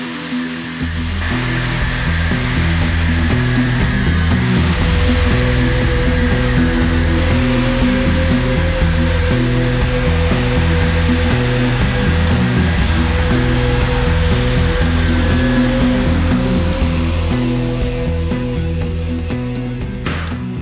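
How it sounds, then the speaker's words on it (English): A power cutting tool grinds through a bar carrying two welds in a garage, a loud, steady, continuous whine and roar that holds without a break. "I'm going to cut this bar off right here."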